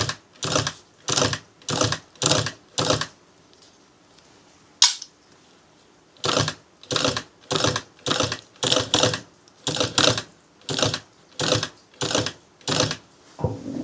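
A sewing machine stitching a synthetic leather clutch, running in short repeated bursts of rapid mechanical chatter separated by brief pauses, close and fairly loud.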